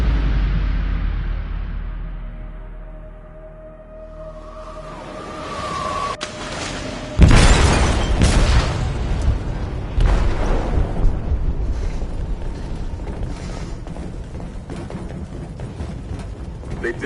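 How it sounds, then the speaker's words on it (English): An explosive detonates in a ship's hold in Detroit: Become Human: a deep, heavy boom bursts out loud and close after a low rumbling lull, followed by a second blast and sustained roaring, crackling debris, with voices heard around it. "They detonated an explosive in the hold"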